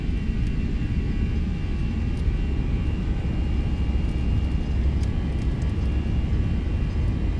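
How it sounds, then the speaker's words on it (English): Simulated Airbus A320 engines rumble steadily through a takeoff roll in a flight simulator, a loud, continuous low roar with faint whine above it and no speech. "Oh, listen to that BSS rumble."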